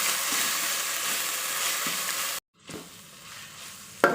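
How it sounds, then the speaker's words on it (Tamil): Ginger garlic paste sizzles loudly in hot oil for chicken biryani, cuts out abruptly for a moment, then returns as a softer, steady frying hiss. "இஞ்சி பூண்டு பேஸ்ட்டு போட்டு நல்லா வதக்கிக்கணும்"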